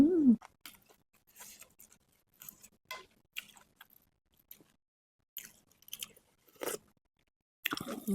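Soft, close mouth sounds of chewing tender beef and crunchy tendon from a bowl of spicy beef noodle soup with yellow egg noodles, coming in irregular wet bites and crunches separated by short quiet gaps.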